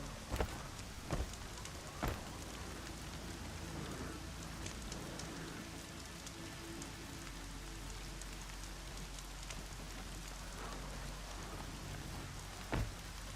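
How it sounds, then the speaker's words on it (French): Steady video game rainfall in Horizon Zero Dawn hisses continuously at a moderate, even level, broken by a few sharp clicks and taps, with no voices present. "Mais il pleut."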